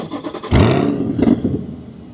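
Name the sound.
Chevrolet Corvette C8 engine starting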